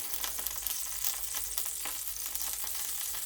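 Okonomiyaki batter with mountain yam sizzles in a hot frying pan, a steady close crackling hiss with small popping bursts and no talking.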